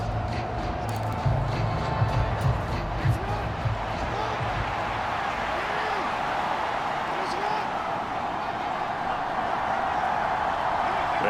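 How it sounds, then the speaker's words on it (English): Stadium crowd noise from the Madden NFL 23 football video game, a steady dense roar of cheering and applause running the whole way at fairly high level. "How about some applause for the defense there?"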